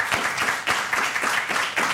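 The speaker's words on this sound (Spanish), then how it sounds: "les pido por favor un aplauso para don Miguel Anxo" Lecture audience giving a speaker a round of welcoming applause, uneven rhythmic clapping from a modest crowd, close and moderately loud.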